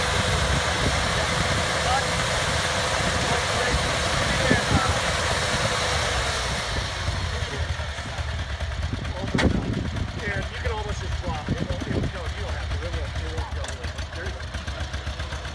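A 1957 International Cub tractor engine runs steadily with a rough, broadband mechanical rumble that fills the clip, louder in the first half and easing slightly later, while people talk over it.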